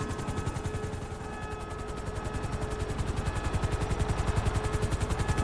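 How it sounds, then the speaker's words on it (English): In GTA V, an arriving helicopter's rotor thumps in a fast, steady rhythm that grows slightly louder as it approaches, with no talking. "Helicopter inbound."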